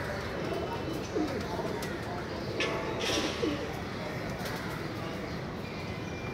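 Teddy pigeons coo softly in a pen, with a few low, rolling calls over a steady background hiss. Someone talks at times.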